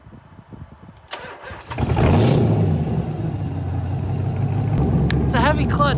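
A 750 HP LS-swapped Z car with a heavy clutch cranks and roars to life, then settles into a loud, steady engine rumble up close, with people talking over it.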